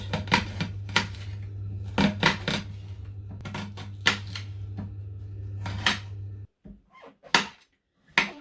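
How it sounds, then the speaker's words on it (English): Peeled vegetables for a budget slow cooker curry, including mushrooms, being chopped on a board. Irregular knife thuds and taps come close over a steady low hum, which cuts out near the end, leaving a few last chops. "So now I'm just going to chop all the veg."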